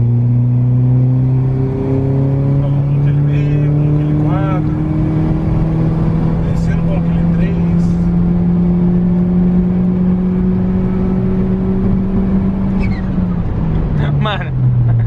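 A Stage 3 Peugeot 208 GT with turbo flutter revs hard, its engine tone climbing steadily and loud for most of the run before dropping away near the end, with voices audible in the background.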